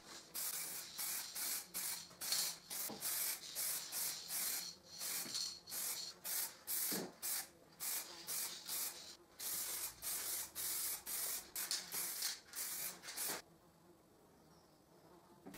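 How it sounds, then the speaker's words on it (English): Repeated bursts of spray varnish being applied to a plywood display cabinet, each hissing spray lasting about half a second in a steady on-off rhythm, close and loud, stopping near the end into quiet room tone. "I varnish everything with spray"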